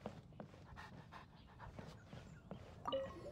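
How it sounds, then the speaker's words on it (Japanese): A dog panting in the video game Genshin Impact, with a quick run of soft, breathy pants and a small whimper near the end, close and fairly quiet. "犬。"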